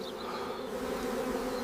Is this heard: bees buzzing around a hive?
yes